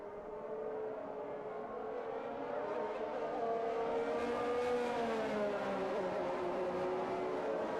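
Race car engines in a sim racing game at a Belgium circuit drone steadily as the field restarts behind the safety car, a layered, sustained roar with several cars revving together at moderate distance.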